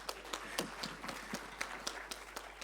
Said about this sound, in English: can we give me a round of applause?